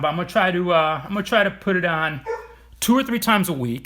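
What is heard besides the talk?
dog barking in the background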